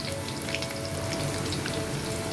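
Sev nimko frying in hot oil, a steady close sizzle with fine crackling bubbles continuing evenly throughout with no voices.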